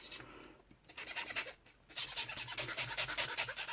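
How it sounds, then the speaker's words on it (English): Hand file rasping a heated metal tool point, quiet repeated scraping strokes that start faint and settle into a steady rhythm of close, gritty passes with no talking. "just filing"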